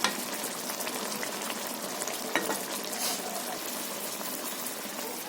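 Chillies frying in oil for a gourd and shrimp curry with poppy seed, a steady close sizzle and crackle with light stirring scrapes throughout, no talking.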